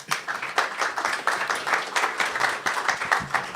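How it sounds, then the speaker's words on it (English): Audience applause at a conference talk, steady, dense clapping from many hands, continuous and moderately loud throughout. "Okay, let's get a round of applause."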